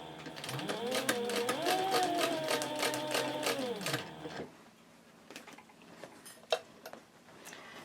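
A sewing machine stitching a handbag from the inside runs steadily for about four seconds, rising and falling in pitch, then stops; a few faint clicks and handling taps follow.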